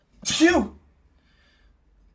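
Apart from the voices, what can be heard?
sneeze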